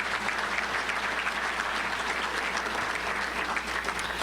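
Audience at a Touchdown Club luncheon giving sponsors a round of applause, steady sustained clapping from a room of people for several seconds, with a low constant hum of the venue underneath.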